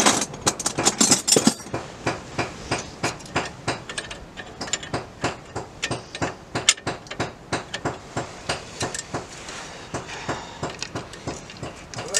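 A hammer taps a brake disc part into place on a Land Rover Discovery 300 TDI, a quick flurry of sharp metallic knocks followed by a long series of steady, evenly spaced taps, fairly quiet and close.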